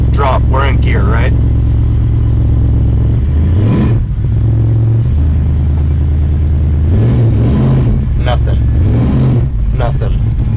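A Mercury Cougar engine idles with a loud, steady low hum, its revs audibly dropping and shifting a few times as the transmission is moved into gear, with a voice talking over it.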